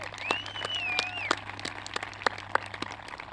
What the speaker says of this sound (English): Let's give her a round of applause for that